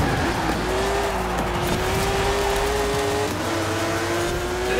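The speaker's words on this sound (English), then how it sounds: "why is this car slipping so much?" Tires of a 2004 Porsche 911 GT3 in Forza Horizon 4 squeal and skid under a steady, droning engine note, with the car slipping continuously throughout and no talk over it.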